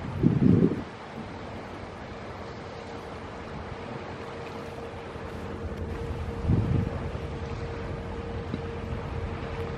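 Squid-fishing boats motor out to sea off the north shore of Phu Quy island, a steady engine drone buried under heavy wind buffeting the microphone, with two louder gusts.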